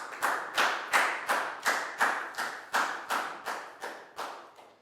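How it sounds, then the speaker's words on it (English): A class of Year 4 students in a classroom clap in unison for a classmate during a maths lesson, giving about a dozen sharp, evenly spaced group claps in a steady rhythm, each snapping loudly and quickly decaying. "High five and a big round of applause for Prel"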